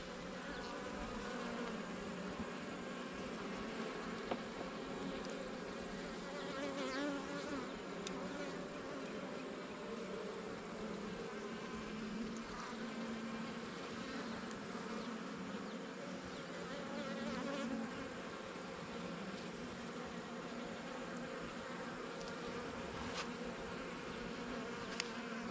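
Honey bees buzzing around a beehive, a continuous soft droning hum of many insects with faint background noise and no talk.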